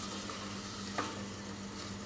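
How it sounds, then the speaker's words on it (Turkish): Steady broadband sizzle of onion and garlic frying in hot oil, continuous and close, with a brief scrape or stir near the middle. "Yağım cızırdıyor. Şimdi soğan ve sarımsağı içine atabilirim."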